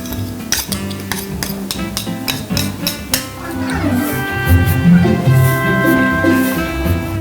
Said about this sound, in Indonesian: udah aku aduk kentang, tempe yang udah dihalusin tuh dua-duanya sama bumbu-bumbunya